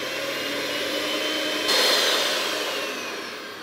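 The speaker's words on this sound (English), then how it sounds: "with my beaters on high, I'm going to bring this together, beat it for about 3 minutes until it's light and creamy" Electric beaters run on high, whipping butter with citrus rind for shortbread, a continuous loud motor whine that swells a little partway through and then eases off slightly, with no one talking.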